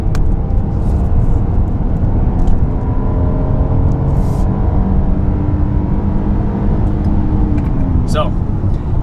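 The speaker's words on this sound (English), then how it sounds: "Hear that VTEC." A Honda engine with VTEC revving hard under acceleration toward highway speed, heard as a loud, steady interior drone with rising engine tones under constant road and wind rumble.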